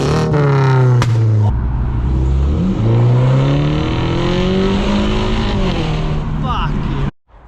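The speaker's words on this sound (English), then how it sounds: "Rev it a little bit." BMW 330e hybrid sedan, tuned to stage 2 with about 380 bhp, revs hard with its engine pitch climbing and falling through several loud sweeps before cutting off abruptly.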